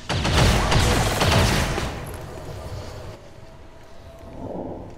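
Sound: gunfire from robots shooting in video game XCOM 2

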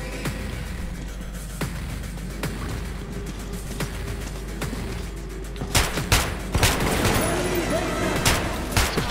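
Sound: gunfire ending in a headshot, from the video game Metro 2033 Redux

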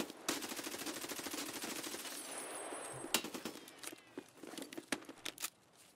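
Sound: sniper gunshots in the video game Escape from Tarkov

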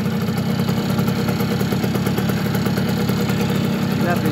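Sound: Yamaha FS1E moped engine idling

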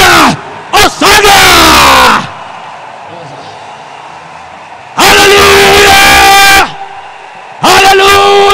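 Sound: church congregation giving loud ovation and applause

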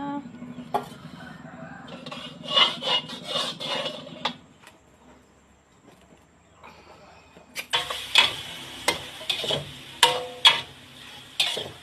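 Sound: stir-frying mixed meat with holy basil (pad kaprao)

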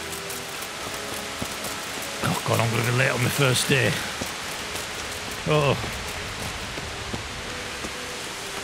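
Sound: rain falling in the video game Kingdom Come Deliverance

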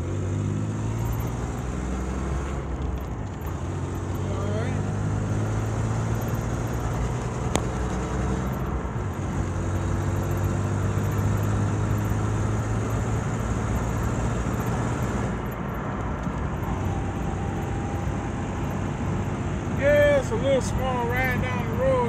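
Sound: Honda Passport driving on back roads in Toronto

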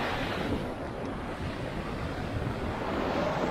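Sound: water falling over the Weser weir in Bremen

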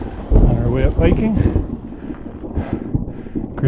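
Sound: thunder

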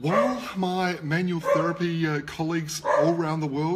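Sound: dog barking

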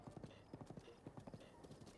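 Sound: horse hooves clip-clopping in the video game Zelda: Breath of the Wild

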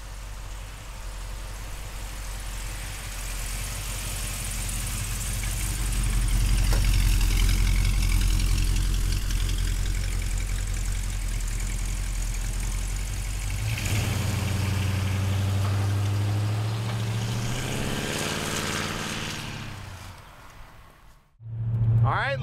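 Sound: 1941 Ford pickup truck V8 engine idling

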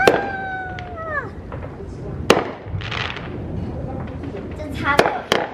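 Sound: fireworks going off behind the house

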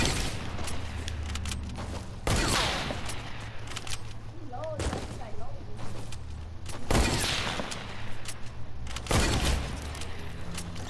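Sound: sniper rifle gunfire in a shooting video game

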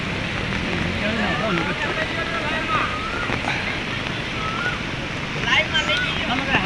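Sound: floodwater overflowing the main drain in heavy rain

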